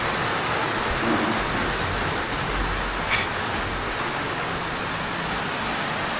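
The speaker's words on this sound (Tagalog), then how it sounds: "So malakas ang ulan ngayon." Heavy rain pours steadily and loudly on and around a house, a dense unbroken hiss with no voices.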